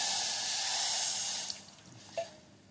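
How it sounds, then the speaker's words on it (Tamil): Water pours into a pot holding jaggery for appam syrup, a steady hissing stream for about a second and a half before it stops, followed by a small drip and a faint clink. "அதை நம்ம இந்த பாத்திரத்தில் போட்டு கொஞ்சமாக தண்ணி ஊற்றி பாக காய்ச்சி வடிகட்டிக்கலாம்"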